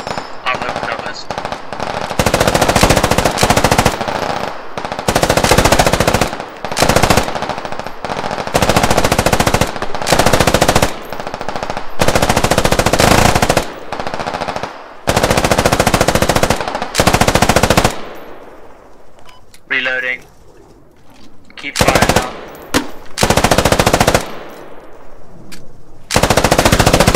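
Loud machine-gun fire rattles in long repeated bursts during a military video game firefight, separated by brief gaps, with a quieter stretch near the end.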